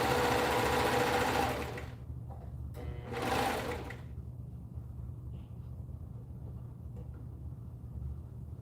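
A sewing machine stitches in two short, loud mechanical bursts close by, the second briefer than the first, leaving a low steady hum afterward.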